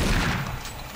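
A gunshot in the video game Doom 3: one dense, heavy burst at close range that fills the whole second with low, booming energy.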